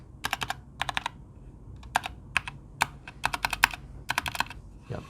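Keys clack on a Keychron K2 mechanical keyboard in quick bursts of typing separated by short pauses, close and fairly quiet. A few keys give a more hollow, slightly different tone.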